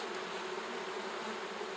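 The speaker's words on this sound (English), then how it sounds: "There's a lot of bees in this hive" Honey bees hum in a dense, continuous drone from an open hive, close and steady without pause.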